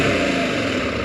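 A KTM 790 Adventure motorcycle engine idles with a steady, slightly rattly drone, close and continuous throughout with no variation in revs.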